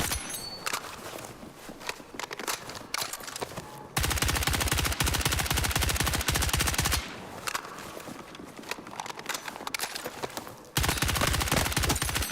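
Rapid automatic gunfire from a hard-recoiling weapon in a video game, long bursts of dense, loud shots separated by quieter stretches of softer firing and movement.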